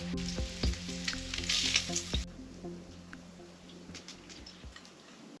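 Bacon fries on a camp stove inside a tent in extreme cold, a loud crackling sizzle with rapid popping spatters that drops to a quieter, softer crackle partway through, with scattered ticks and no talking.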